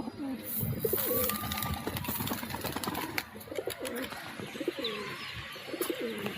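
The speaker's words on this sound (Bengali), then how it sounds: "আবার দুবার পয়রাটা ডাকতে লেগেছে" A pigeon coos close by in repeated rolling phrases, steady and rhythmic, over faint background noise while it is being fed.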